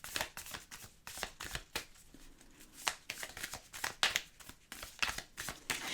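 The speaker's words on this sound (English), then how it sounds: "So we're going to pull some more cards to get another layer here." Oracle cards being shuffled and pulled from a deck, a run of quick papery riffles and flicks close up, steady and alone with no talk.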